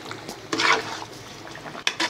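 A spoon stirs barley through a pan of Chinese-style mixed vegetables, giving a couple of brief scraping, wet stirring strokes against the pan, close up, with a faint steady background hiss.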